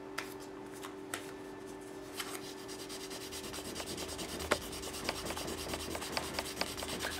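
Fine 1500 to 2000 grit abrasive paper rubs over the frets of an electric guitar needing fret work, a continuous close scrubbing hiss broken by small ticks and a faint steady hum, with no talking.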